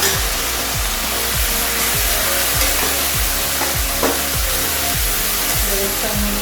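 Yogurt-marinated chicken fries loudly in a pan, giving a steady, dense sizzle close up. Regular scraping strokes from stirring run through it.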